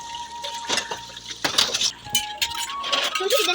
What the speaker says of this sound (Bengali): এই যে থালাবাটি হচ্ছে মেজে নিয়েছি, এখন হচ্ছে ধুয়ে নিব